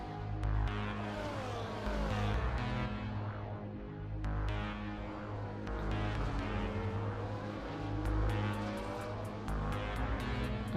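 Formula 1 car engine in the F1 24 racing game, a steady loud high-pitched whine with rising and falling revs through a corner, other cars audible, continuous throughout with no talk.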